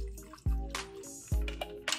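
A margarita poured through a strainer into a new glass over fresh ice, with two short splashing pours and clinks of ice, close and fairly loud.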